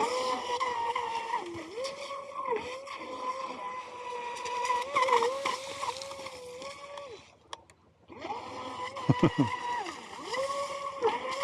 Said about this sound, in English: It's a new Traxxas stunt boat.